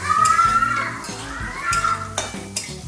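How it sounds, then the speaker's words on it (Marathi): Chopped onion sautés in a pan for homemade fried rice, with a soft sizzle under repeated scraping strokes of a spatula against the pan, close and fairly loud, and faint background voices. "तर हे कांदा परततोय आधी ना?"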